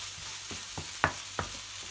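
Tomato and paneer bhurji are stirred in a frying pan over a steady sizzle, with a few soft scraping knocks from the spoon heard close up.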